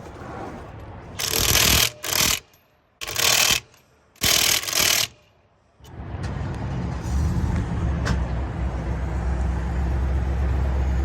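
Bursts from a torque stick on an impact gun tightening the lug nuts of a car trailer wheel after a tire blowout: three loud, short rattling hammer bursts close by, followed by a steady engine-like drone and clatter with no speech.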